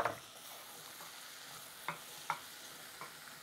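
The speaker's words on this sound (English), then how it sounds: "I'm going to put the garlic in at this stage because I like the garlic to infuse the" Sliced mushrooms and garlic fry in a pan, a quiet constant sizzle punctuated by a handful of sharp clicks and scrapes as a utensil stirs them.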